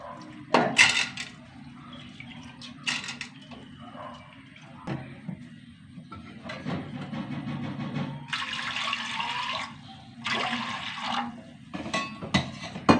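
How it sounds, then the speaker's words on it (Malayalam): Water splashes and pours into a metal pressure cooker with lentils amid clattering kitchenware, with broadband rushing bursts that rise and fall over several seconds. "വെള്ളം ഒഴിച്ചു കൊടുത്തു"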